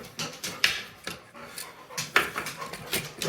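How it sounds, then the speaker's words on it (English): A neighbor's dog pants close by in quick, uneven breaths, with small clicks and rustles between them and no voices. "So that's the neighbor's dog, Kid, back there"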